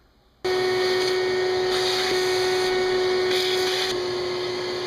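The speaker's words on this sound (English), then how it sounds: "the first job is going to be to vacuum the mouse poop out of the engine." A vacuum motor switches on abruptly and runs with a steady, high whine, loud and close, its pitch wavering slightly as the nozzle moves through mouse droppings in a Subaru engine bay.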